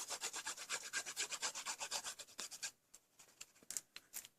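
Shiny card paper is rubbed down by hand in a fast run of steady, soft scraping strokes, followed after a short pause by a few slower, scattered rubs, all quiet and close with no talking.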